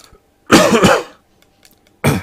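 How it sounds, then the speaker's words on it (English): A harsh double cough up close, followed by a short pause and a third cough starting. "Nasty cough today."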